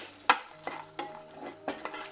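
Makhana (fox nuts) with salt, black pepper and dry ginger stirred quickly in a pan over high heat, several quick scraping strokes and light rattles in a steady rhythm, faint and close.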